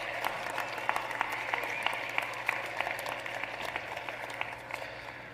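Scattered applause from a high school graduation audience, a moderate patter of clapping that holds steady for several seconds at a modest distance.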